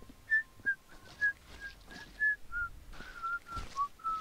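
Short, clear whistled notes repeat in a quick, slightly uneven rhythm, fairly quiet against a soft background, in the video game Viscera Cleanup Detail.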